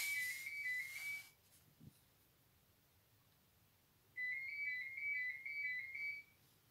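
A phone rings in a room where someone is painting ceramics: a short burst of warbling electronic ringing, a long pause, then a second, longer ringing burst, fairly close and clear with no talk over it.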